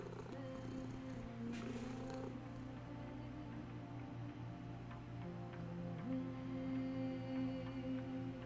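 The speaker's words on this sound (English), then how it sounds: "Oh, we can purr." A cat purrs in a steady low rumble close by, continuous throughout with faint hum and small handling noises around it.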